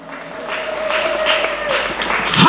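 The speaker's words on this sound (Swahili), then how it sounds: "Ongeza makofi na vigelegele." A church congregation applauds and ululates in a steady wash of clapping, with a sustained high trilling voice running through the middle and the noise swelling toward the end.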